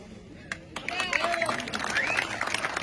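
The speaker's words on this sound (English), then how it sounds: "So we clap for ourselves today." An audience at a workers' gathering claps for itself, a moderate patter of many hands rising quickly and carrying on steadily, with voices and chatter mixed through it.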